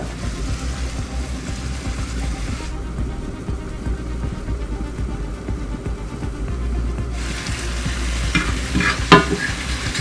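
Onions fry in a pan for curry-jerk chicken, a continuous close sizzle with repeated stirring scrapes and clinks; the hiss eases midway and then returns, with a sharp clatter near the end.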